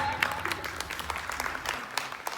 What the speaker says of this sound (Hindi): प्लीज अपने लिए ताली बजा दीजिए एक बार